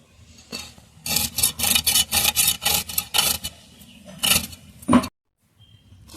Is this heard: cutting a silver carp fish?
yes